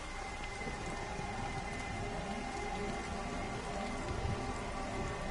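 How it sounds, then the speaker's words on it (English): Steady, dense rainfall in the video game Everybody's Gone to the Rapture patters continuously against surfaces, with a low rumble of thunder in the background; no voices. "it's raining harder, there's lightning"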